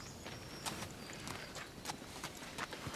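A horse's hooves clip-clop in a steady walking rhythm, several sharp strikes spaced across a few seconds, fairly close and clear over a low background, with no voices.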